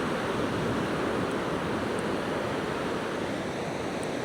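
Ocean waves break on a beach in a steady, broad wash of surf noise that continues unbroken and fairly loud throughout.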